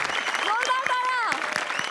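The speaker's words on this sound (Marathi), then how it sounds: "जोरदार टाळ्या." Loud studio audience applause after a stage performance, a steady wash of clapping with a voice sounding over it.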